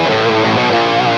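Guitar played through an octave divider with a low sub-octave, light chorus and a short room reverb, giving a dense, steady sustained tone for just over a second with no pauses.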